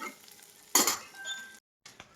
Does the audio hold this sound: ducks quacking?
no